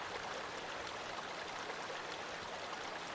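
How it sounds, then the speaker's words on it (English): Rushing water in Paper Mario: The Thousand-Year Door plays as a steady, even hiss of flowing stream water, moderately quiet and unbroken, with no voices. "talking about this rushing water sound"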